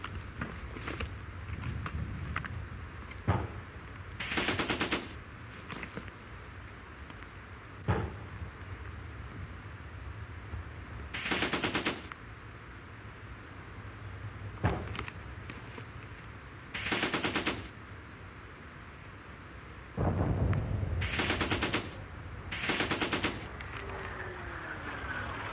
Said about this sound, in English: A quick movement was made, still under the covering fire of the Bren gun